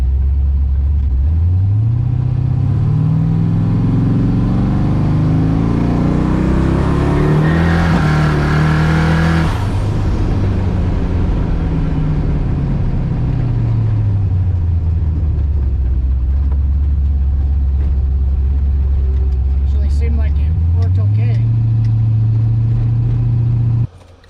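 A car with Holley Terminator X traction control does a burnout, its engine loud and close, revving up to a roaring peak with a rush of tire noise, then dropping and climbing again over about twenty seconds.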